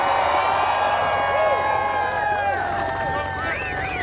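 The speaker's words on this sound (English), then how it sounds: "So you're going to want to give her a major round of applause." Political rally crowd at an outdoor People's State of the Union event applauding and cheering steadily throughout, a dense wash of clapping with whistles rising over it, while a voice over the loudspeakers talks on top.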